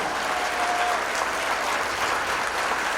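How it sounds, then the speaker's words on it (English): A large audience at a school district's State of the District event applauds award-winning educators, with steady, dense clapping that stays even throughout. "So let's give them a big round of applause."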